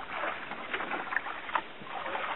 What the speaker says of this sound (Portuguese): O motor Yamahazão.